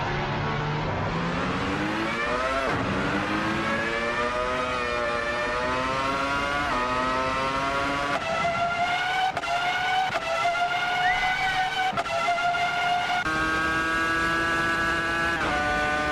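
A Williams FW26 Formula 1 car at the Canadian Grand Prix, its engine screaming at high pitch, rising and falling steadily through gear changes and revving, loud and continuous throughout.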